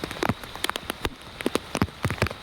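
Raindrops tap and splatter close by during a bicycle ride in the rain, a scattered run of sharp drips over a light background hiss.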